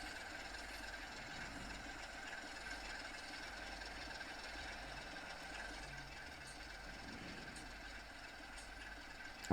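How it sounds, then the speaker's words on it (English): A train of oil tankers running in Train Sim World 5, a steady low rumble of rolling stock and engine drone with faint rhythmic rail noise, continuous and even throughout. "With our train of oil tankers."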